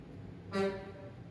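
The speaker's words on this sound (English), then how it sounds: "Noisy cars." A car horn gives one short, faint toot from the street amid quiet background traffic.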